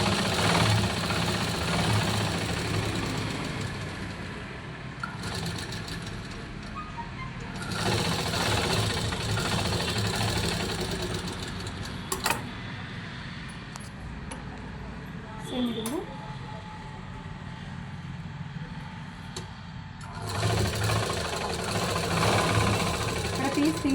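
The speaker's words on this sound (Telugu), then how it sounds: "బ్యాక్ పార్ట్ బ్యాక్కి స్టిచ్ చేసుకోండి." A sewing machine stitching a saree petticoat, its motor whirring in long continuous runs with brief pauses between seams, close and steady, with a voice speaking during parts of it.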